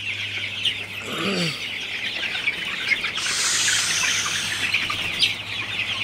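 Sonali hybrid chickens cluck and chirp in a hot shed amid a steady background drone from a fan, with one brief louder call standing out from the dense flock noise.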